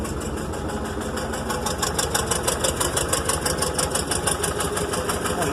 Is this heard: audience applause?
no